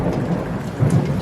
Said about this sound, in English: we got some hail going on already.